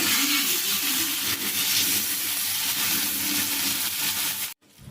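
Masala-coated fish fries in oil on a tawa, giving a steady, dense sizzle and hiss close to the pan. The sound holds evenly, then cuts off abruptly just before the end.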